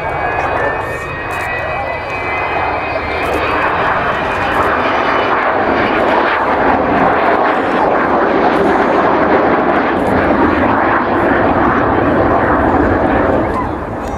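An Avro Vulcan XH558 jet bomber roars continuously overhead during an airshow display at Waddington, a broad rushing engine noise with a high whine on top, sustained and steady throughout.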